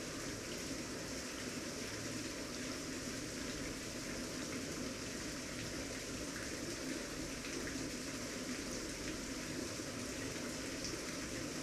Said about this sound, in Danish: Jeg laver vandet ud, så hælder jeg fisk i.